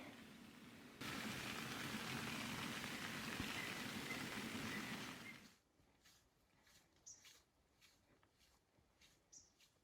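Steady broadband rain hiss in the San Juan Mountains wilderness fills the first half and then cuts off abruptly, leaving quiet with a few faint drips and soft chirps.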